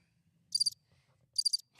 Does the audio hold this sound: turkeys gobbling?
no